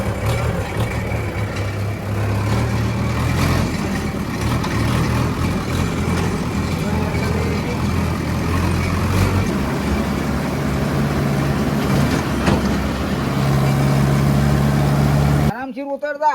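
A tractor engine runs steadily on a farm, a constant low rumble close by that drops to idle, with people talking over it throughout.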